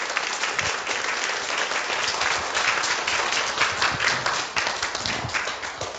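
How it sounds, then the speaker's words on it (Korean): Sustained applause from an audience at a church family-ministry seminar, welcoming a professor to the stage; dense, steady clapping fills the whole stretch without a break. "오늘도 기대하는 마음으로 박수로 우리 이기복 교수님 환영하겠습니다."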